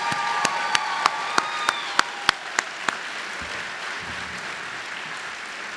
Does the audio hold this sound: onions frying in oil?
no